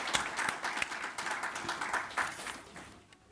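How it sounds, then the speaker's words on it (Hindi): Audience applause rising at an Urdu mushaira gathering in Qatar, a dense wash of many hands clapping together, fairly loud and steady before thinning out at the end. "आपकी भरपूर तालियों में।"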